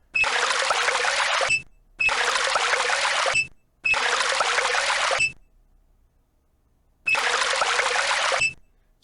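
A running tap in Titanic: Adventure Out of Time gives several bursts of steady, hissing water flow, each lasting about a second and a half and separated by short silences, then a longer gap before a final burst.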